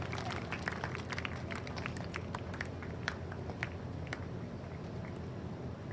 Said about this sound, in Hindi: बच्चे जोरदार तालियों से स्वागत करेंगे, अभिनंदन करेंगे, वंदन करेंगे